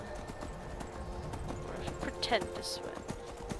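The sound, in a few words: horse hooves clip-clop in video game Skyrim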